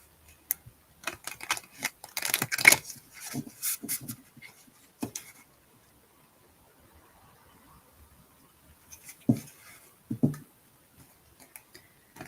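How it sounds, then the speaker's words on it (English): Crisp, rapid riffling and slapping of tarot cards being shuffled in bursts, with quiet pauses between rounds, close and fairly soft. "I feel like I need to shuffle it a little bit differently now."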